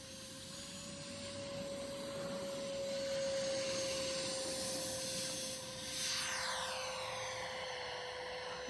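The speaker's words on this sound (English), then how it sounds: "All right, taking off." A Freewing Eurofighter Typhoon RC jet fitted with an upgraded FMS 90mm 1900kv electric ducted fan takes off, its loud steady whine holding one high tone and swelling as it passes close by.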